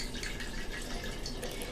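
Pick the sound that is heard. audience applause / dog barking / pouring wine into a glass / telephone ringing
pouring wine into a glass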